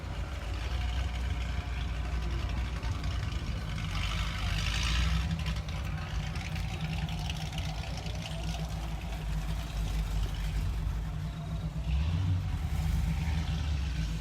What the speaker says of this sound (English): Check out this engine.